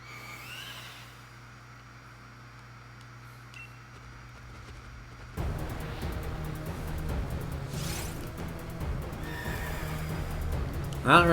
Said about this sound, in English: Ooh, this horse is not happy.